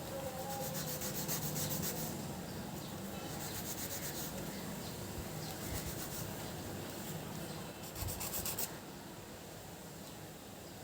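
A pencil tip rubbed back and forth to sharpen it into a fine calligraphy qalam nib, a steady close scratchy grinding that runs continuously with brief pauses, no voices.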